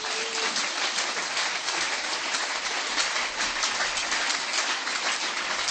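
A church congregation claps together during a sermon, a dense steady wash of many hands heard alone and fairly distant for several seconds.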